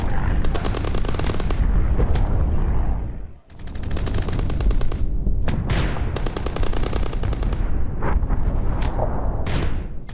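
Loud, sustained machine-gun bursts rattle during a Ukrainian Azov brigade military exercise, with long rapid volleys broken by a brief pause and several sharp individual shots.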